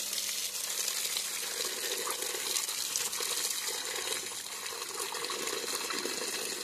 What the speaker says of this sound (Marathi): पहिले ते स्वच्छ पाण्याने स्वच्छ धुवून घेऊयात.